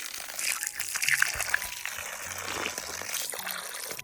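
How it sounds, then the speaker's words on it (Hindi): Water pouring and trickling outdoors among almond trees in Himachal Pradesh, a close, uneven gush of liquid over a few seconds with faint background noise, no talking. "पानी पी लिया जाए।"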